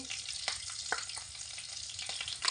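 Nigella seeds and slit green chillies sizzle in mustard oil, giving a soft, even crackle with a few faint pops and stirs throughout; no voices.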